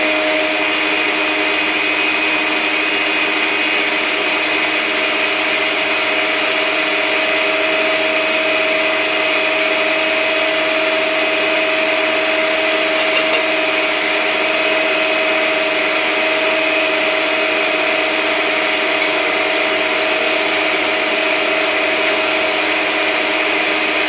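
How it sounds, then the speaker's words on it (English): An electric hand mixer runs steadily at low speed, beating banana cake batter as flour is added a little at a time, a constant close whirring hum with no pauses and no voices. "turn the mixer on a very low speed and add a little bit at a time"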